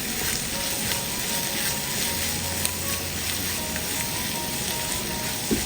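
Steady, loud sizzling and frying fill the whole stretch as egg puff filling with coriander leaves is stirred in a hot pan, with no talking.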